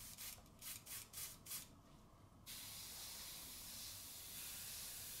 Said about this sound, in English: Also spraying this with the PS290